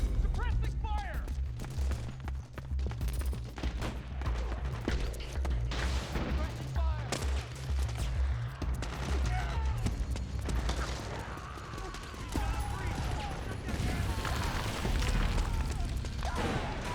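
Dense, sustained gunfire and explosive booms from Metal Gear Solid 4 on PS3, with continuous rapid shots layered over heavy low rumble, while voices shout throughout the chaotic battle.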